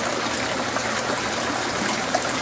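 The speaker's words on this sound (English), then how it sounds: "It's already drained all the water out." Water drains from an aquaponics grow bed back into a fish pond, a continuous close trickling and gushing flow, steady and fairly loud without talk.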